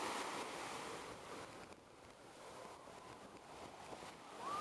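Rough sea stirred up by strong wind at a beach on Skiathos, a steady broad wash of surf with gusting wind buffeting close by, moderately loud and continuous with no talk.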